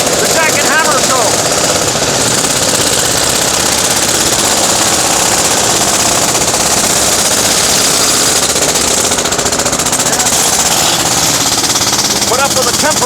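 Loud, continuous rapid hammering of a jackhammer breaking ground to remove underground wires in Moscow, steady and close throughout, with faint voices talking underneath.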